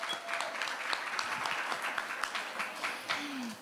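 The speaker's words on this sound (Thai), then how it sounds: "ขอเสียงปรบมืออีกทีนะคะ" Applause from the audience at a national final of a royal-composition singing and interpretive-dance contest, a steady patter of clapping lasting several seconds at moderate level with no voices over it.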